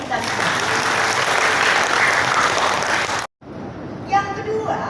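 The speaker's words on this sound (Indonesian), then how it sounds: "Tepuk tangan buat kita semua." Applause from an audience at an Indonesian health cadre training event in Banten, a steady sustained clapping that cuts off abruptly, followed by a brief voice and room noise.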